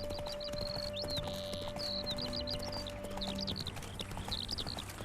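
Steady clip-clop of horse hooves in The Witcher 3: Wild Hunt Hearts of Stone, with scattered bird chirps overhead and a low steady hum underneath, continuous throughout.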